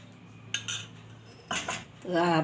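Flour, salt and oil being mixed for veg momo dough in a bowl: a few short clinks and scrapes of a utensil against the bowl, separated by quiet pauses.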